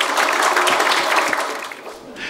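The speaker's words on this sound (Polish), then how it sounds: "Wielkie brawa, gratulacje." A dense burst of applause from a crowd honouring two prize-winning students from mechanical and construction schools at a local self-government knowledge contest; the clapping stays steady and close, then eases slightly toward the end.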